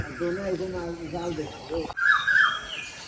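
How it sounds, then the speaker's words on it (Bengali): Birds chatter and chirp nearby in the morning, with harmonic calls early and a sharper high call after a brief pause; a voice speaks over them. "দেখুন কিরম পাখি ক্যাচের মেচের করে"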